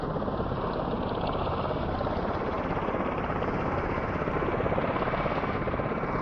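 The MV-22 Osprey's engines in Microsoft Flight Simulator 2024 on PS5 run at full throttle as a steady, loud rotor drone with a constant buzzing throb that holds without change.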